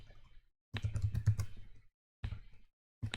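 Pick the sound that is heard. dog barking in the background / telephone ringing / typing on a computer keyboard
typing on a computer keyboard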